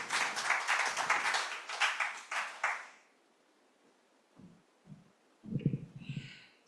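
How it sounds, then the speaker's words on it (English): At a conference panel on gender-transformative agriculture in Africa, a short burst of audience applause rings out for about three seconds, then stops, leaving near silence broken by a few soft low thumps and shuffling. "Please give them a round of applause as they take their seats"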